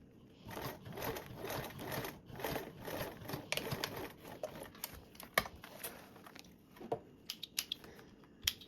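A sewing machine stitching a seam on a Pandora Charisma bag near a D-ring, sounding as an uneven, close patter of stitches with clicks and knocks, slowing and thinning toward the end.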